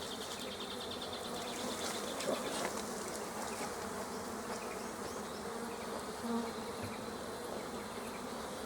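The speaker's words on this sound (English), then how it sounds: "And you'll see the bees pouring out." A dense, steady buzzing of many bees pouring out of a hive super fills the whole clip, close and continuous, with a few brief louder swells.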